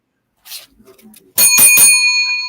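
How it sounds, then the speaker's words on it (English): A bright metallic bell is rung twice in quick succession, close and loud, its ringing tone lingering after faint murmurs and small sounds in a quiet room. "I was wondering if you'd ever get the bell rung for you, Dan"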